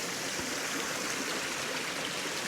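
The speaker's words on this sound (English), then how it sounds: "I want to cross this creek here" A creek runs beside a snow-covered hiking trail, giving a steady, unbroken wash of flowing water that sounds close and fairly even throughout, with no voices.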